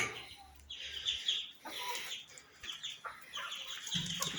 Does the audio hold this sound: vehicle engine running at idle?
no